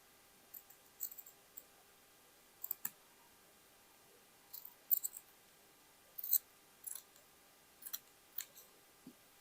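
Scissors snipping a whole fabric flower out of material for a plus-size summer dress, a series of short, crisp, close clicks in small bursts separated by quiet pauses, with no talking.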